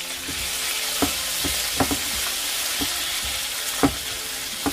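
Tomatoes frying in a pan, a steady close sizzle broken by occasional knocks and scrapes of a utensil stirring, with no voices.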